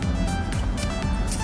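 A car engine revs hard during a California smog check at a test station, a loud, sustained roar with a couple of surging pitch swells across a short burst.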